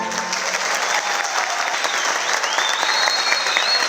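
An audience at a symphonic music festival gives steady, enthusiastic applause, a dense wash of clapping hands heard close and continuous with no talk.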